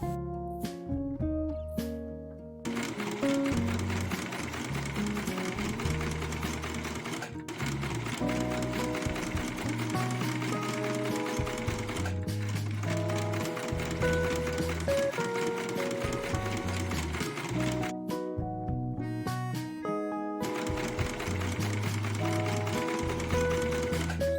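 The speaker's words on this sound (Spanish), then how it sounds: "lo acomodan y continúan cosiendo guiándose por la costura anterior" A sewing machine runs in long rapid bursts, stitching new elastic onto a fitted sheet, its fast mechanical clatter steady and close with brief pauses between runs.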